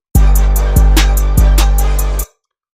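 A punchy electronic beat plays alone: three heavy booming bass kicks with crisp hi-hat and snare hits between them, ending abruptly after about two seconds.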